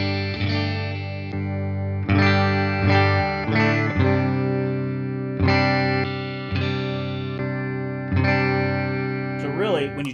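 Fender Player Plus Telecaster played with its pickups switched into series, giving a thick, boosted electric tone with distorted, chorus-like effects; sustained chords ring out with strums roughly every two seconds, loud and continuous throughout.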